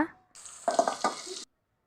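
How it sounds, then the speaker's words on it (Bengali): Bay leaves, cinnamon and white cardamom hit hot oil in a wok alongside chopped onion, giving a brief, close sizzle of roughly a second with a few scraping stirs. "দারচিনি দু তিনটা সাদা এলাচ দিয়ে ভালো করে নাড়তে হবে"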